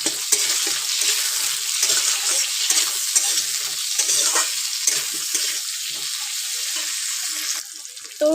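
Tomato, slit green chillies, onion and potato frying and being stirred in a pan, a steady close sizzle with scraping stir sounds throughout, and a brief pause near the end.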